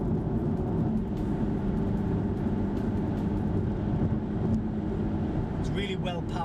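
A BMW X1 F48 with twin turbos pulling hard while overtaking, a steady loud engine and road drone throughout, with someone talking over it.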